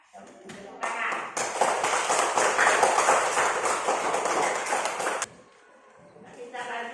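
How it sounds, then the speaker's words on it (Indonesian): A classroom of students clapping their hands together, a dense burst of rapid applause lasting a few seconds, then fading into quieter room sound. "Tepuk tangan."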